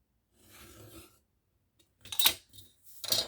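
Scissors snip a small notch, one or two millimetres deep, into a paper topper bag; two short, crisp cuts stand out near the end after a softer rustle of handling, close and quiet, with no talking.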